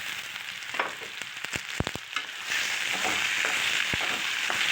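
Crushed turkey berries sizzling in a pan of oil with softened onion and garlic, with a few sharp clinks of a spoon at the start and then steady, fairly quiet frying hiss.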